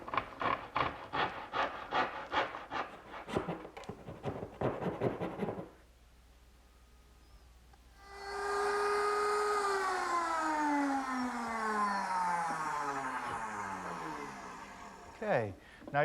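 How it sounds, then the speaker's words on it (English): A small dovetail saw trims about three-quarters of an inch off the end of a wooden kitchen worktable piece, a quick run of a dozen or so close, rhythmic rasping strokes, then silence and a long sweeping tonal sound. "I'm going to take my little dovetailing saw and trim off about 3/4 of an inch"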